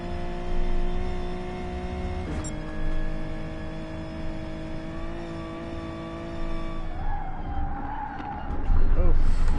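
A Hyundai Genesis in GT Sport slides on cold tires around the Nordschleife. Its steady engine whine carries a scrubbing tire skid throughout, while someone talks over it.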